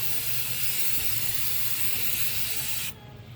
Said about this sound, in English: hold the spray can about 10 to 12 inches away from the object